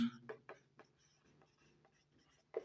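A pen scratches across paper while a table is written out, short scraping strokes in an irregular rhythm, close and quiet, with a faint steady hum underneath and a louder stroke near the end.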